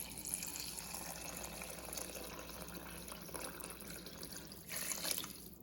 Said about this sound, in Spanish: En este caso vamos a añadir suficiente agua hasta cubrir